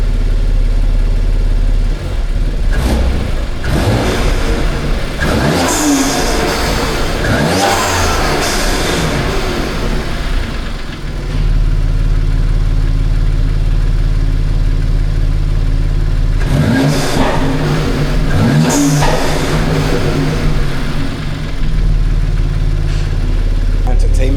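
A car engine starts for the first time after an X3M front mount intake install, then idles with a low steady hum and two bursts of revving, while a person talks over parts of it.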